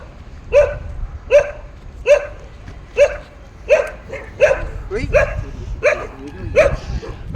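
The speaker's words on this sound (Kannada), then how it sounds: "ನಾಯಿ ಇದೆ, ಫುಲ್ ಬಾರ್ಕ್ ಮಾಡ್ತಾ ಇದೆ ಇಲ್ಲು." A dog near an old house barks loudly and close by, about a dozen sharp barks at a steady rhythm of roughly one every half second to second.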